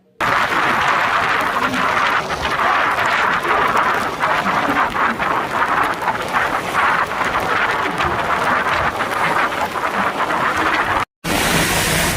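Heavy rain pours down steadily in a dense, loud hiss around Manachanallur, with a brief break near the end.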